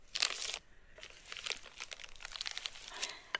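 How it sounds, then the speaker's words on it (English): A plastic bag holding noodle dough crinkles and crumples close up at a bush camp, with a loud burst of rustling at the start followed by softer, irregular crackles. "I put it in a plastic bag and rolled it out."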